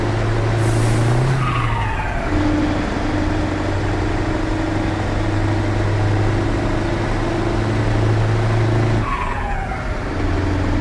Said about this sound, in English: this engine sound for the 24-hour stream is going to be great because listening to the open pipe's awesome